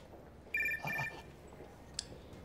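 A phone rings with an incoming call, one short electronic ringtone burst close by, then a faint click against a quiet room.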